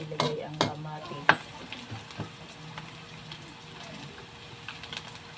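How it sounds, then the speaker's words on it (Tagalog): Garlic sautéing in a pan for pakbet, a quiet crackling sizzle with several sharp scraping and tapping stirring sounds near the start, then a softer steady fry. "Ituto natin ng konti ang bawang bago natin ilagay ang kamatis."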